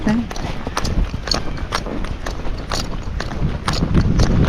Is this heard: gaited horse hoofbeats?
yes